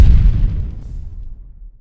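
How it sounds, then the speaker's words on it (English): A single deep, booming explosion hits loudly, then its low rumble slowly fades away over about two seconds. "an explosion was triggered by an iPhone 5S."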